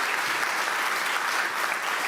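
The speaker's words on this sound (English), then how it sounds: "sure that we all give her a special round of applause as well." Steady, dense audience applause for Meryl Tisch at a SUNY Stony Brook investment announcement, a continuous full-room wash of clapping heard alone without talk.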